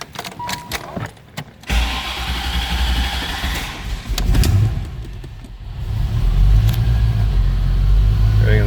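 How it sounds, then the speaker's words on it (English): A 1988 Chevrolet Corvette's engine cranks and fires after some clicks and rustling, then settles into a loud, steady idle close by, with a brief rise in revs along the way. "I'm going to go ahead and start this up for you so you can hear it run."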